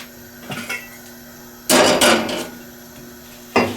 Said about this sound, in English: So let's put the grate back on. We'll connect this windshield here.